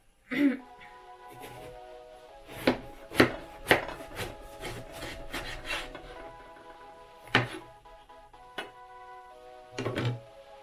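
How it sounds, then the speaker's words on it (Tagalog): A knife cuts an eggplant in half on a wooden board, giving several sharp knocks and scraping cuts with pauses between them, while a person talks over the work. "So, first, meron tayong talong. Hihiwain lang natin to sa gitna."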